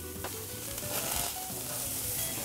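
Zucchini and mushrooms with harissa sizzle steadily on a grill, a continuous bright crackle and hiss at close range with occasional small pops.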